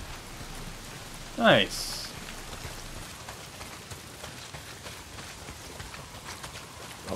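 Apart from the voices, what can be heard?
heavy rain falling in Days Gone video game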